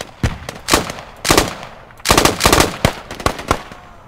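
Covering fire in the Squad military video game comes as loud, sharp rifle shots in short clustered bursts, some single cracks and some rapid strings, separated by brief pauses.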